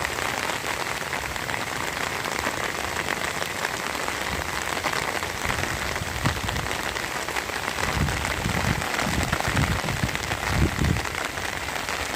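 Heavy rain pouring down steadily in a flooded rural area, a dense loud hiss of drops hitting surfaces with some heavier patters near the end, continuous and close, no talking.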